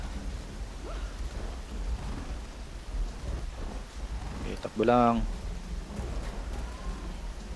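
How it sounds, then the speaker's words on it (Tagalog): Heavy rain pours continuously over rumbling thunder in the Left 4 Dead 2 Hard Rain storm, a dense roar of downpour with deep rolling booms, while a player speaks briefly over it. "Lakas ng ulan."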